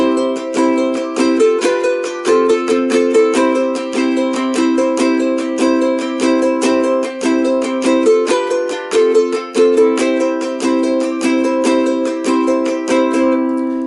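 Guitar chords from a song strummed in a lively, steady rhythm with crisp down-up strokes, loud and close, no voices.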